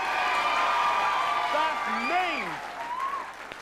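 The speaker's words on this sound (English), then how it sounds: "Give them both a round of applause." Steady applause from a game show studio audience fills the clip, with a cheerful voice calling out over it and a whoop rising near the end.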